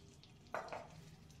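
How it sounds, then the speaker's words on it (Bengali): Ghee heating in a kadai for tempering arhar dal gives a faint, low hiss, with a short, slightly louder sizzling burst around the middle of an otherwise quiet moment. "ওতে দিয়ে দিচ্ছি ক্রিম জাল দেওয়া আমার ঘি।"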